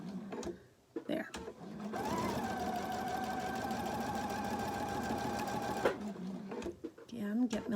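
A sewing machine stitches a quilt block of pieced triangles in a steady, fast mechanical whir for about four seconds. A person talks quietly before and after the run.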